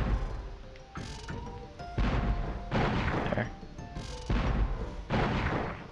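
Repeated cannon blasts from the player's cannon in Spyro 2: Ripto's Rage at Breeze Harbor, several loud booming shots in an irregular rapid sequence with game sounds in between.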